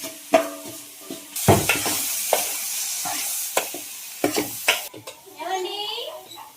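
Tomatoes and cucumbers stirred with dried fish in a frying pan, with scraping spoon strokes against the pan over a soft sizzle, a few sharp knocks, and brief voices near the end.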